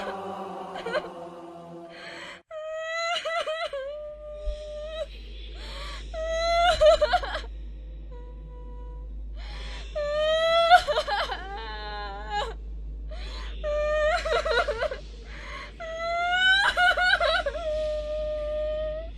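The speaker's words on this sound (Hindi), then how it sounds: "एक औरत की रोने की अजीब सी भयानक आहट।" A woman wails and sobs in long rising and falling cries, with breaks between, over a low rumbling drone that starts a few seconds in.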